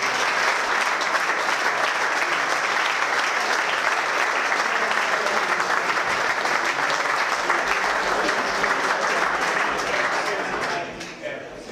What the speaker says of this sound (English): round of applause for the Team Time Trial Champions 2014.